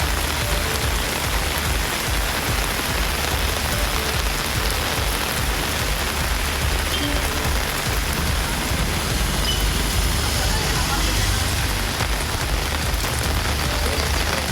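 Heavy rain pours down in a steady, dense hiss across the whole stretch, loud and even with no break and no voices.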